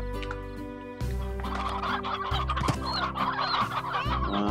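Briar hens in the video game Slime Rancher cluck and gobble continuously, a busy layered flock chatter over a steady droning game background.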